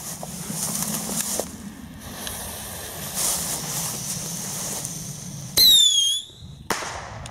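After several seconds of outdoor wind and background rumble, another Panda mini rocket firework shoots off with a loud descending whistle lasting about half a second, then a short gap and a sharp pop.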